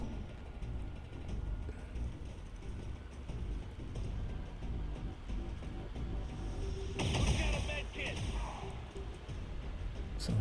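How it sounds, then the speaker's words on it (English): Gunfire from a soldier's weapon in the strategy game XCOM 2 erupts as a sharp, loud burst partway through, set against a steady low in-game rumble and mechanical ambience. "So one rookie has shot the other rookie."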